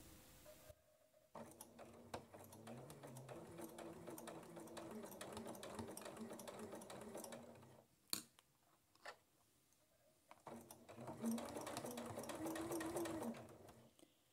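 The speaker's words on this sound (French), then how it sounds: "je couds la première et avant de terminer la couture d'une poche, je glisse la seconde et je couds en continu" A sewing machine stitches advent calendar pockets in one continuous run, whirring steadily for several seconds, pausing with a few clicks, then starting up again for another long stretch, close and quiet, with someone talking over it.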